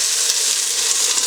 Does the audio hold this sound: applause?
no